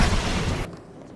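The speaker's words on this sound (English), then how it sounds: "That seems like a big explosion for two gas cans and some plastic explosive" A movie explosion from two gas cans and plastic explosive blowing up a public office building in The Beekeeper (2024): a loud, booming blast that roars for about half a second and then drops sharply to a faint rumbling tail.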